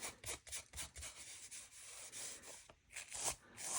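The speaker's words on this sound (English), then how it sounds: "It is now dry and it's time to just rub off this salt." Soft, close scratchy rubbing strokes as dried salt is rubbed off a dry watercolor painting on paper, continuing in an uneven rhythm at low volume.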